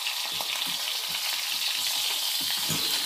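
Smoked chicken browns in a hot pan with a loud, steady sizzle, punctuated by soft, irregular taps of stirring, close by and with no talk.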